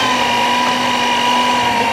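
Electric mixer running at its lowest speed through red velvet cupcake batter, a steady close whirring motor hum with a constant tone, uninterrupted and alone for the whole stretch.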